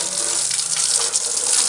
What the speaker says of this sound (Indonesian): ini langsung kita guyur aja pakai kran ya